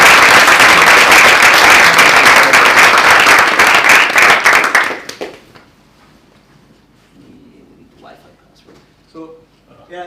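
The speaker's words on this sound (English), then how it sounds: "Let's give it applause for Kukks" Loud audience applause at a conference talk on BTCPay fills the first five seconds with dense, sustained clapping, then cuts off abruptly into a quiet room with faint scattered sounds.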